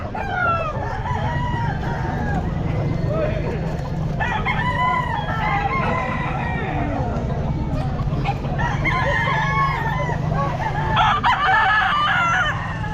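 A sweater gamefowl rooster crows loudly and repeatedly at a busy pet market, amid clucking chickens, other crowing birds and steady crowd noise, with people talking nearby.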